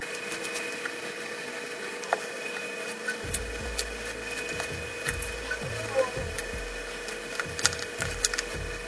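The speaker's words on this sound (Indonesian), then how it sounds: "Keempat baut ini kita baut dulu." Four screws driven in to mount a MiTag tracker, a run of short rhythmic ratcheting clicks and tool scrapes starting partway through over a steady electrical hum, close and moderately loud.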